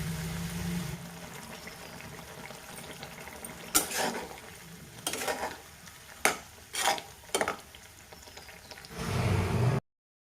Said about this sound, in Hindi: और फिर मैं इसमें डाल दूँगी धनिया पाउडर, मिर्चा पाउडर और गरम मसाला, हल्दी, ये सारी चीज़ों को डाल के हमें अच्छे से भूनना है